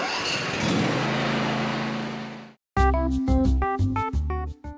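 Simplicity tractor with hydrostatic drive, its engine cranking for a moment before catching and settling into a steady, loud mid-pitched idle; a brief quiet gap falls in between, and no one speaks.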